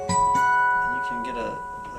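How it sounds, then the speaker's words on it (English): A Roland GR-09 guitar synth driven by a Parker Nitefly guitar sounds a simulated-harmonics patch with bell tones: a bright struck chime that sustains with steady ringing overtones and slowly decays. "This is guitar harmonics kind of sound that they've done with bells and whatnot."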